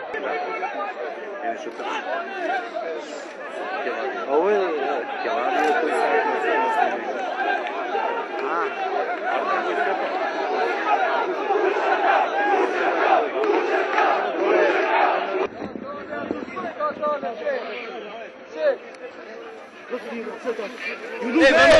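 Two large crowds shout and roar at each other in a dense, continuous din of angry voices, with cries rising and falling throughout.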